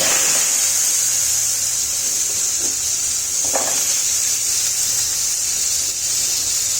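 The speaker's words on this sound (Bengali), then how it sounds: "যেহেতু আলুগুলো একটু ভাজতে হবে, তাই প্রথমে আমি আলু দিয়ে দিই" Potatoes fry in hot oil with five-spice (panch phoron), a steady close hiss and sizzle with a couple of brief clinks from the pan.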